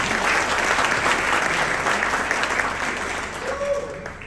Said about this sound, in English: So please give her another round of applause.